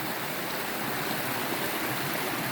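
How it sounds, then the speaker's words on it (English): Small stream flowing into a larger stream on Bodmin Moor in Cornwall, a steady, close rushing of water that fills the whole stretch without pause. "You've got a little stream there going into a bigger stream."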